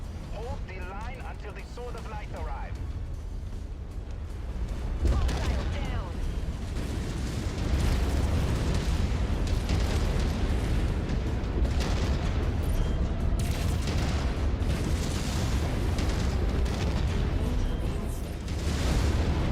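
Missile explosions in the video game MechWarrior 5: Mercenaries: a dense, continuous roar of blasts and booms that swells after a few seconds and stays loud, with battle noise throughout.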